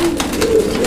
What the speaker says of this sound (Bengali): আমরা এই মুহূর্তে দেখতে পাচ্ছি এখানে আরও এক জোড়া কবুতর, বোম্বাই কবুতর